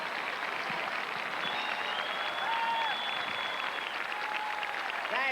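A large crowd at the 1989 Olympic opening in Oklahoma applauds Bob Hope, a sustained wash of clapping with a few cheers and whistles carrying over it throughout.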